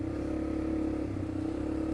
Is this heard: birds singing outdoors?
no